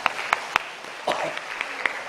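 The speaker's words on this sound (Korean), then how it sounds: "우리 격려의 박수 한번 하겠습니다" A church congregation gives encouraging applause, a light scattering of claps with a few distinct sharp hand strikes near the start, then a softer patter under a brief murmur of voices.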